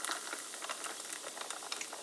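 Mandarin orange sparkling water pours from a can into a mug, a steady, dense fizzing crackle of bursting bubbles with no voices.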